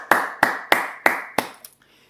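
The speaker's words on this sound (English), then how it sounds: "weird at all to clap on an empty room" One person claps alone in an empty conference room, giving five sharp, evenly spaced claps with a ringing echo, then a softer sixth that fades into quiet.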